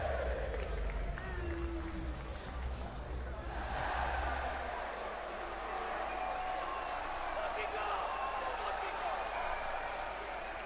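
Crowd at the CWL London grand final of an esports Call of Duty event, a broad steady roar of cheering and babble filling a large arena throughout, with a commentator talking over it.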